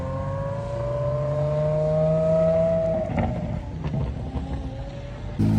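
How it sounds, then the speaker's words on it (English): A Mercedes CLK at Monterey Car Week revs loudly with a sustained, rising engine tone that holds, then breaks into rougher bursts as it passes, close and without speech over it. "Oh, listen to the CLK."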